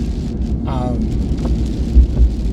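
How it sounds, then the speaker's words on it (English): Steady rain hisses throughout, with a low rumble underneath and a brief voice-like sound partway through. "you can, I'm sure, hear that it's raining"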